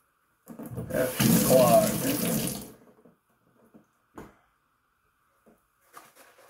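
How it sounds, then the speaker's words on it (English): Warm water runs from a bathroom sink tap in a steady, close gush for about two seconds and then stops, followed by a few faint knocks and small clatters. "Get some warm water in there."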